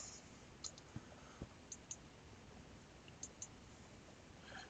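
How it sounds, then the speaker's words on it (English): Computer mouse buttons click several times, faint and close, in small single and double taps spread over a quiet background hiss. "I'll right click"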